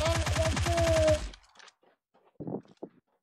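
Rapid burst of shooting-game gunfire, a dozen or so quick regular shots over about a second, loud and close, then fading into quiet with a few short scattered knocks.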